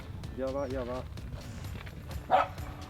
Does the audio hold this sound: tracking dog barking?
yes